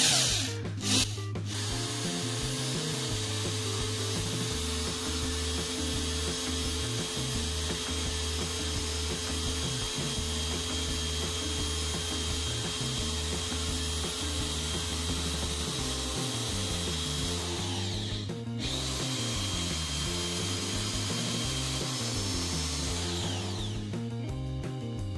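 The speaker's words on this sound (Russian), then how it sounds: "Таким нехитрым способом сверлим." A bolt clamped in a power drill spins against a drill bit held in a vice, giving a long steady whirring drone with grinding, then a short pause and a second burst near the end.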